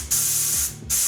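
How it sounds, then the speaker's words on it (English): A can of compressed air sprays inside a coin pusher machine in two sharp hissing bursts, the first long and steady, the second starting just before the end, close and fairly loud. "There was just the compressed air and the can."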